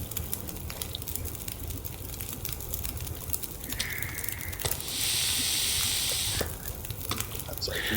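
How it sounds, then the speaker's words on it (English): Food sizzles over a campfire in The Long Dark, a steady crackling hiss that swells loudly for a moment midway before settling back to a lower fry. "Hear that sizzle."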